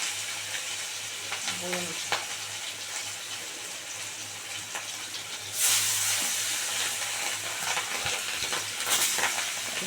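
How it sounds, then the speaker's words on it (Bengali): Pangas catfish pieces fry in very hot oil in a kadai, giving a loud, continuous sizzle and hiss. A sharp crackling burst arrives partway through, with faint clatter around it. "ব্যাস বন্ধুরা কড়াইয়ের তেল একদম গরম হয়ে গেছে এবার মাছগুলো দিয়ে দেবো এক এক করে"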